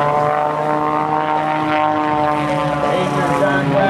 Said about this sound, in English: he sets the Air Guard Staudacher S300D tumbling nose for tail